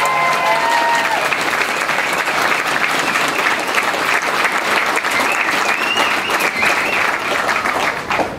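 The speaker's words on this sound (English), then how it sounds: "Let's give them a round of applause." A large outdoor rally audience applauds veterans with sustained, dense clapping and some cheering, steady and loud throughout.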